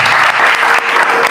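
Church congregation applauding during a worship service, a loud, dense burst of clapping from many hands, brief and steady with no speech over it.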